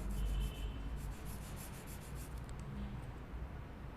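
A tool being sharpened by steady rubbing, slowly rotated between strokes: a low, continuous close-up grinding rasp at moderate level, with no speech.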